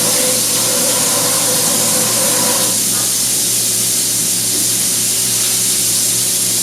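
Tap water runs in a steady loud hiss while floury hands are washed in a kitchen, with a faint hum underneath and a slight shift in the flow partway through.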